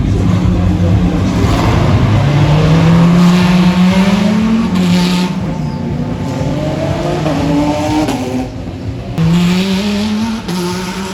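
GT3, GTM and GTC supercars of a Thai racing series roar past at the Singapore street circuit, loud and close, their engines rising and falling in pitch as they pass one after another.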